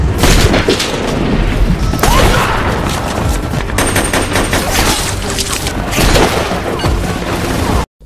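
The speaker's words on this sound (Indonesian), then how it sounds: "Ghani yang bersembunyi di lereng mulai menembaki satu persatu musuh" Dense war-film battle scene with continuous gunfire bursts and heavy explosions, loud and sustained, a soldier hiding on a slope firing on enemies one by one amid booming crashes.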